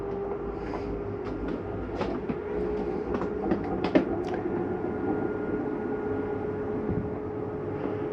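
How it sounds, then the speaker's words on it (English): Slide-out on a 2022 Jayflight 28BHS travel trailer retracting, a continuous mechanical drone with a steady hum and scattered clicks and rattles, close and fairly loud throughout, with a grinding mechanism sound near the end. "Now you will hear what sounds like a grinding noise at the end of these slides coming in."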